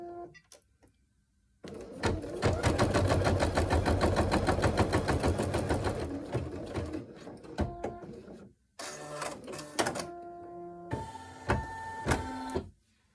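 Embroidery machine sewing a dense satin stitch around the eyes of an in-the-hoop owl design, a loud, fast, rhythmic needle chatter running for several seconds, then shorter stop-start bursts with pauses.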